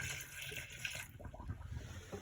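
RV antifreeze poured down a shower drain in a 2016 Thor A.C.E. 29.3 motorhome during winterizing: a faint, steady liquid trickle and gurgle, quiet and close.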